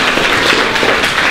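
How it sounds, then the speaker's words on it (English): A school crowd at an event in Pine Bluff, Arkansas, claps and cheers in one thick, continuous wash of applause lasting just over a second. "Let's give Officer Howard another round of applause"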